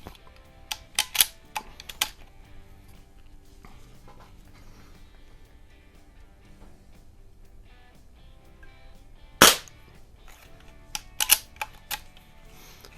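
A Crosman 2240 air rifle carbine fires Crosman Piranha pellets from the standard magazine, sharp close cracks standing alone: a cluster of shots early, a loud single shot midway, then a few more near the end, with quiet gaps between.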